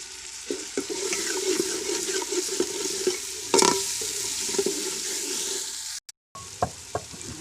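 Spices, chopped green garlic leaves and split chana dal frying in a pan for a Bengal gram curry, with a steady sizzle, soft stirring scrapes and a few sharp clinks, and a brief silent gap near the end.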